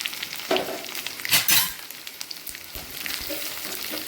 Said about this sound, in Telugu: ఈ ఆయిల్ వేడైపోయింది ఇప్పుడు దీంట్లో ఒక నాలుగు వెల్లుల్లిపాయలు పచ్చగా దంచుకొని వేసుకున్నాం